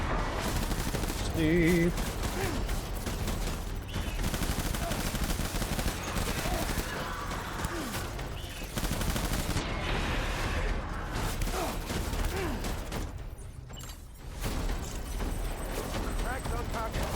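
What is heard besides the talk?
assault rifle gunfire in a video game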